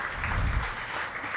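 Audience applause at a mayoral announcement of Great Streets grant winners, a short steady burst of clapping from a crowd, fairly loud throughout.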